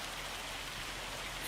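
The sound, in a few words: hail falling in Farming Simulator 25 video game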